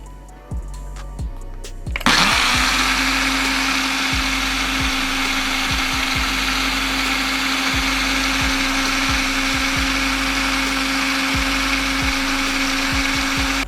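A blender whirs chipotle, lime juice and ranch dressing into a dressing, starting after a few quiet clunks with a loud, steady motor whine that runs on at an even pitch, while faint knocks tap underneath.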